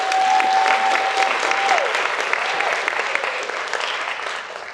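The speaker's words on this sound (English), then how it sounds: "Let's go ahead and give them another round of applause" An audience applauds pageant contestants at an Indigenous cultural beauty pageant, sustained dense clapping filling the hall, steady and loud before gradually easing, with a faint tone sliding underneath.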